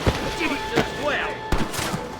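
Gunfire in the Red Dead Redemption western video game: a few sharp shots scattered over a couple of seconds, mixed with game music and faint voices.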